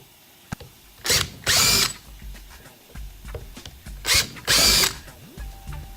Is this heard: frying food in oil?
no